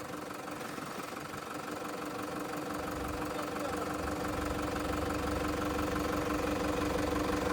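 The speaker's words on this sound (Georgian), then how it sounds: "კარგად არატრიალებდა ძრავს." A BMW E32 740iL engine that was not running well keeps up a steady idle, a dense continuous rumble with a faint knocking edge that grows slightly louder toward the end, with no talking over it.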